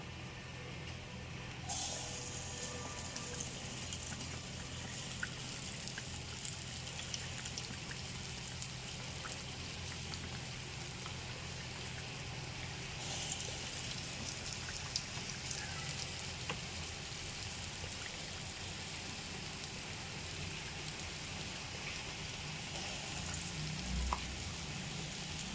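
Pesara burelu, mung bean dumplings, dropped into hot oil fry with a steady, soft bubbling sizzle that runs throughout, with a brief clink near the end.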